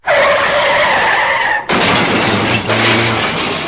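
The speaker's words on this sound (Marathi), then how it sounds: "तो ट्रक जोरात येऊन त्यांच्या गाडीला धडकला." Loud tire screech lasting over a second, then an abrupt heavy crash with rumbling, scraping impact noise as a speeding truck hits a car at night, close and intense.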